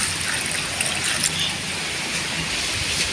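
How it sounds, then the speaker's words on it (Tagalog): Water pours steadily into a cooking pot holding jackfruit, a continuous close trickling and gushing rush with no break. "Dagdagan natin yung tubig para naman sa ating langka."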